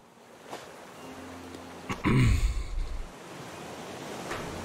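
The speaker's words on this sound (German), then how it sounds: "Oh, jetzt wird's wieder stürmisch." Stormy sea waves and wind in the survival game Raft wash around steadily, with a heavy low surge of water crashing close by midway through the moment.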